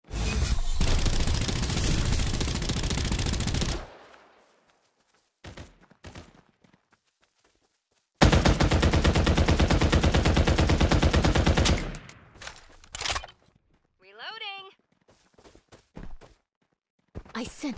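Rapid automatic gunfire from the shooter video game Farlight 84, two long loud sustained bursts with gaps between, plus short game effects and clicks.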